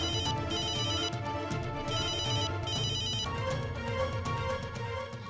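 A telephone rings with bright, repeated electronic trills in regular bursts, loud and close, while a low musical bed plays underneath.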